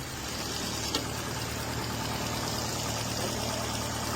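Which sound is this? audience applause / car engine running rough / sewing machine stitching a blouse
car engine running rough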